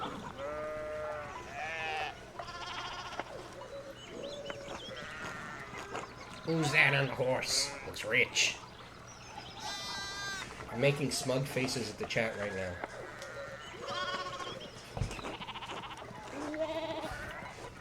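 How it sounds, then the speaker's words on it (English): Sheep bleat in a game soundscape while a person talks over them, the animal calls rising intermittently beneath and between the speech. "I love the sheep sounds. Bah, they're cute."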